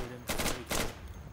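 Gunfire in the video game Insurgency: Sandstorm, two short, loud bursts of rapid shots about half a second apart, with no voices over them.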